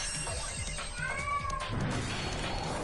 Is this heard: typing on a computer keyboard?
no